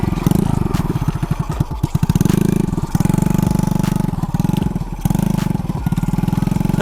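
A modified Dutch-era motorcycle's engine during a test ride, close and loud, with a throbbing, pulsing exhaust note that rises and falls as the rider works the throttle through turns.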